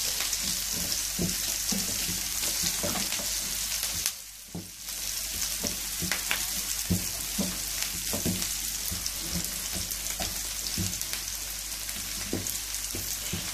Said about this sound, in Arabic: انا هبدأ بعدين اشوح في البصل والفراخ كده مع بعض